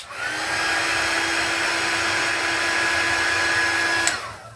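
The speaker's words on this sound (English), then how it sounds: "So if I hit it with my heat tool" A handheld heat tool blows hot air to melt glue on a rhinestone project, a steady close whooshing drone that runs for about four seconds before clicking off.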